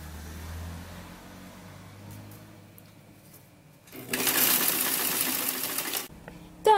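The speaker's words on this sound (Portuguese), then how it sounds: "Vamos passar na máquina reta." A straight-stitch sewing machine runs on a jumpsuit seam, a steady mechanical whir starting partway through and holding for about two seconds before stopping, after a quiet stretch of room sound.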